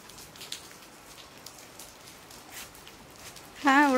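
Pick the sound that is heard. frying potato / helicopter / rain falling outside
rain falling outside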